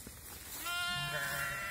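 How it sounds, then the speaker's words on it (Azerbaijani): A single sheep of the pure qaradolaq breed, from a flock offered for sale, gives a clear, wavering bleat that rises and holds for about a second over quiet background noise. "127 baş təmiz qaradolaq sortu qoyunlar satılır"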